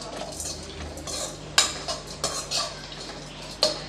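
Ingredients for coconut rice sauté in coconut oil in a pan over a low flame, with soft sizzling under irregular clinks and scrapes of a metal spoon against the pan, close by.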